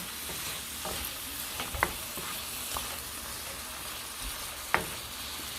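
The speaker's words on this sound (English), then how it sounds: "Now I'm going to stir them in because they're basically done." A spoon stirs grits in a pot over a steady sizzling hiss, scraping softly and irregularly, with two sharper clinks of spoon against the pot. No one speaks.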